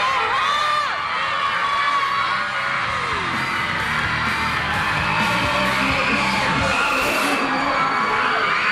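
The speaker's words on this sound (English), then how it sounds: "Wherever the idols went, hundreds of screaming fans turned up to meet them." Hundreds of fans scream, yell and cheer at a Singapore Idol roadshow in a shopping mall, a dense, loud and unbroken wall of high shrieks and whoops.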